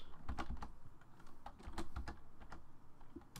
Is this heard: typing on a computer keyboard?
yes